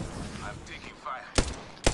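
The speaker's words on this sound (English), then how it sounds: "I'm taking fire." Gunfire in the video game Apex Legends: two sharp, loud shots about half a second apart near the end, following a stretch of quieter game sound and a voice.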